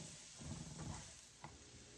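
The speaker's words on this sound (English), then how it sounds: "toss them around in the oil" Leeks frying in oil in a pan, a faint steady sizzle with soft stirring scrapes as they are tossed around, quiet and close.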